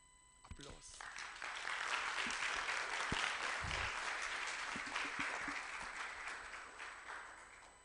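Audience applause breaks out after a talk at a Software Freedom Day event, building quickly into steady, dense clapping that holds throughout with a few faint voices mixed in.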